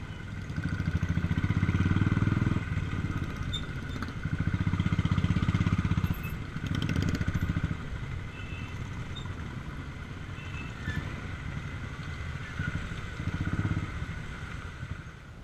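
Royal Enfield Bullet motorcycle engine running during a ride, a steady low thumping drone with louder surges in bursts, continuous throughout under faint wind noise.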